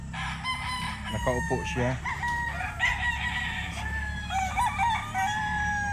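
A sweater gamecock rooster crows on a farm, with repeated close crowing calls and clucks over about six seconds while someone talks nearby.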